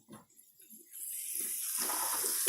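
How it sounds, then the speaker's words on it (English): Water poured into a pan of stir-fry chicken, a steady running rush that rises after a few soft clinks and holds fairly loud until the end. "Add a little water. Add some water."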